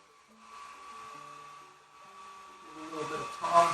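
A blow dryer runs on a long oiled beard over six inches, a soft steady whoosh whose pitch shifts as it moves, with a faint voice underneath and rising rustling near the end.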